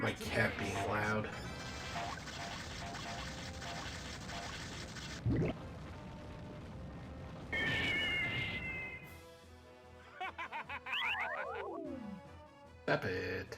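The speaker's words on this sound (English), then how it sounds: "He's doing that thing that cats do when they sit at a place and meow real loud for no apparent reason" A house cat meows loudly and repeatedly in the background of game audio and music, several drawn-out calls rising above the mix in the latter half.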